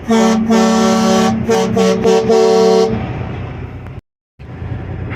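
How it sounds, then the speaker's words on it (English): A loud air horn on a semi truck blares in several short, overlapping blasts with a rich harmonic tone, then cuts off, leaving engine rumble after a brief gap. "After not having an air horn till now, here we go."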